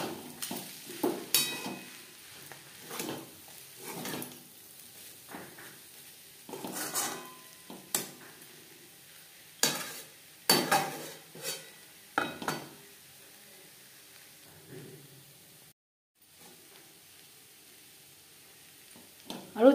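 Curry with garam masala cooking in a pan, heard as a spoon stirring and scraping in repeated strokes over a soft sizzle, close and moderately loud, with a short silent gap near the end.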